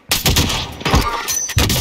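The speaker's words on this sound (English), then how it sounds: "Oh, I got sniped." Loud, close gunfire in the video game Warzone, a rapid burst of several sharp cracking shots in quick succession filling the moment, with no speech.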